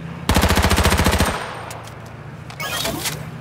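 AR-15 rifle fire in the video game H1Z1 rattles out as a rapid, loud burst of about a dozen shots, followed by quieter scattered game sounds.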